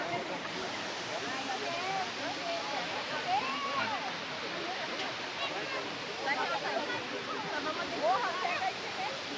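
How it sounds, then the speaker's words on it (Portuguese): A steady rushing roar of the Lago Azul waterfall in Jaguariaíva, Brazil, with two cascades, fills the air, with faint voices and bird-like chirps drifting over it. "Cachoeira, lá cai duas cascatas"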